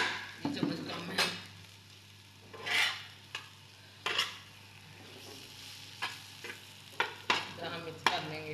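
Frothy tea being whisked and stirred in a pot, a series of quick scraping and clinking strokes against metal over a soft simmering hiss, fairly close and without talk.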